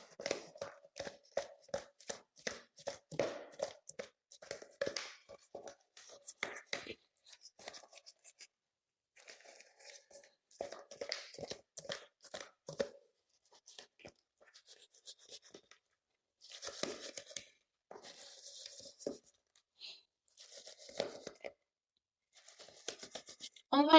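Fish is mixed with oil and spices for grilling: close, soft, wet squelching and slapping in irregular bursts, separated by short pauses of near silence.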